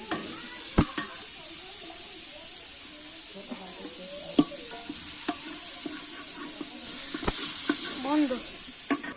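Raw onion hits hot oil in a pan with a steady loud sizzle and hiss throughout, stirring clicks and scrapes scattered on top, and a voice talking over the cooking.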